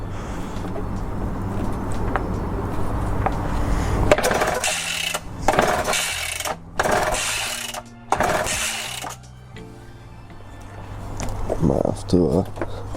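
Atlas two-stroke concrete breaker being pull-started after an exhaust repair, giving several loud bursts of engine noise that cut in and out before settling into a rough idle, with a steady low hum underneath.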